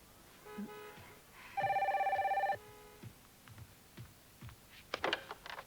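A telephone rings in one loud electronic trill lasting about a second, with quiet room sounds and small clicks before and after.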